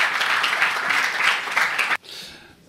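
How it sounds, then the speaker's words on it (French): Audience applause at a university conference, dense steady clapping from a crowd that fades abruptly after about two seconds into quieter room noise. "je vous demande de les applaudir et de les remercier d'être là"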